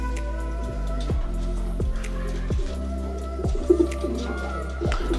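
Racing pigeons coo in a loft in Dzierżoniów, Poland, a steady close chorus of low, repeated throaty calls with rhythmic pulses roughly every second and occasional wing flutters or shuffling beneath.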